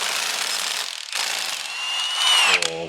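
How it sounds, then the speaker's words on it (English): A big impact gun driving a chrome socket on a chrome adapter during a Toyota 2JZ engine rebuild for a mid-engine Nissan S15, giving a loud sustained buzzing rattle that ends in a brief ringing, all close up. "Nothing like a chrome socket on a chrome adapter to the big gun."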